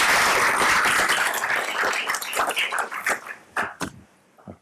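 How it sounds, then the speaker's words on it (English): Audience applause at a school board meeting: a full round of clapping from a roomful of people, loud at first and then thinning out into scattered individual claps before fading to near silence. "a round of applause for Joel."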